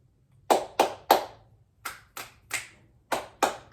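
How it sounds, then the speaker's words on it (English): Clap snaps done as part of a body-settling fitness routine: nine sharp, crisp hand claps in loose groups of three, close and clear with nothing else sounding. "My clap snaps are coming back pretty good"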